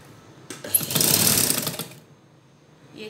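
A sewing machine stitches the folded hem of a churidar pajama in one close, steady, buzzing run of about a second and a half, then stops into quiet.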